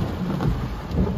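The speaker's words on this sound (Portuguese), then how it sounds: "Olha a chuva que tá dando agora." Heavy rain pours steadily during a thunderstorm in Balneário Camboriú, a loud dense hiss with a deep low rumble of thunder underneath and no talking.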